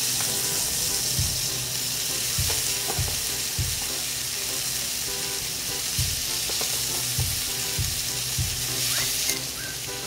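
Crispy isaw sisig sizzles on a hot sizzling plate greased with chicken oil, a constant loud hiss of frying broken by several soft, low taps and knocks.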